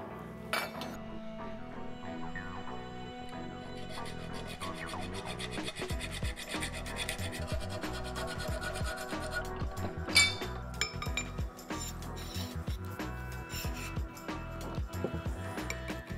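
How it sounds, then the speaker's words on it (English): Hand file rasping on a bicycle frame headtube held in an alignment fixture, repeated close strokes with occasional metallic clinks, steady rhythm throughout. "I'd file where the blue is and then I'll check it once again."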